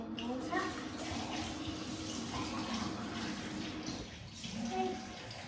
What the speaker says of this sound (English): Give the pepper a wash